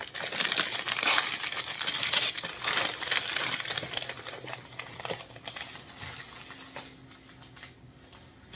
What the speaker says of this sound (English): I'm going to be very careful removing the tape, because she does have very good wrapping skills